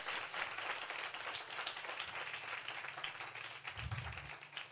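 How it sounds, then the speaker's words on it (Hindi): A church congregation claps and applauds together in a sustained wash of hand claps, fairly faint and distant, with a brief low voice near the end. "यीशु के लिए भरपूर ताली बजाएं सब जोर से"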